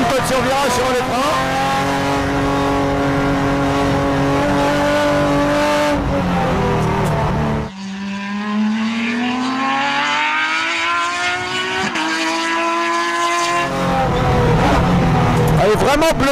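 A Renault Mégane 2 Trophy V6 braking into a corner: a loud, close engine with strong harmonics whose pitch drops and then climbs again through the bend, with a voice talking over it.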